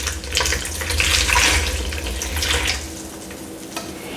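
Liquid pours steadily with a gurgling, splashing rush, close by and fairly loud, easing off toward the end.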